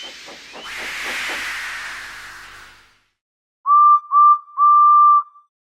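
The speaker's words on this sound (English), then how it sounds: "So they lit his fire, made lots of steam, and Edward puffed away." A steam locomotive lets off a loud, sustained hiss of steam with a few chuffing puffs. After a short silence come three clear, close whistle blasts, two short and one longer.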